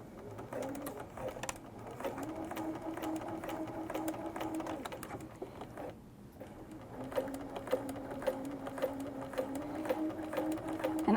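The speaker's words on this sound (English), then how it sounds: "So I'm going to sew down the end, turn the corner, and sew all the way across." A sewing machine stitches down the end of an apron sash and across the corner, running in steady bursts with a short pause midway, fairly close and alone.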